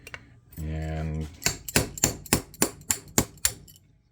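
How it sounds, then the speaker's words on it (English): A hammer strikes a 1/8 inch roll pin punch to drive a roll pin out of a Ruger SR22 pistol, about nine sharp metallic taps in a quickening rhythm, close and loud, after a brief low hum. "we're going to drive that out, and that you can use your 1/8 inch roll pin punch"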